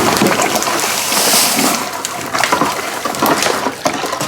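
Liquid pours and sloshes into a batch of sour mash, a steady splashing wash with brief gurgles, close and fairly loud.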